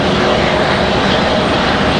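A jet airliner taxis at Raleigh-Durham airport, its engines producing a loud, steady broadband roar close by with no talking.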